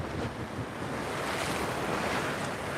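Ocean waves washing ashore at Waikiki Beach behind the Sheraton Waikiki, a steady, fairly loud surf roar with some wind buffeting the microphone and no voices.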